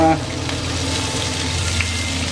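Coconut milk sautéing in a pan with green papaya, giving a steady close sizzle and bubbling hiss that continues evenly throughout.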